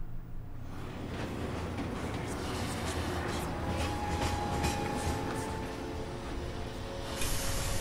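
A train rumbles along in Final Fantasy VII Remake, a steady low roar with hissing and faint metallic tones, continuous and fairly close without speech.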